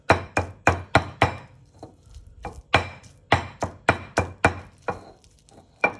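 Repeated heavy pounding thuds in a steady rhythm, a pestle mashing boiled garlic cloves for Thai spring rolls, close and loud with brief pauses between bursts.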